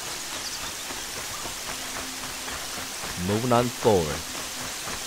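Steady rain hiss in the video game Horizon Zero Dawn fills the background, with faint patter throughout while someone speaks briefly near the end.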